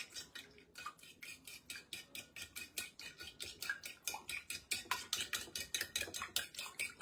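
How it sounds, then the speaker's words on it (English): Rhythmic clinking as a whisk or fork stirs an egg and cinnamon mixture for French toast in a bowl, quick steady strokes close by, fairly quiet, with no speech. "So now we just finna stir this concoction here up."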